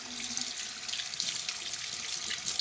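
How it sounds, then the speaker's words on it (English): Warm tap water runs steadily into a sink as hands are rinsed under it, a continuous hissing splash with slight shifts as the hands move through the stream. "So she is rubbing her hands together using warm water."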